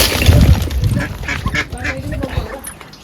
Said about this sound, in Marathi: हे बघा बदक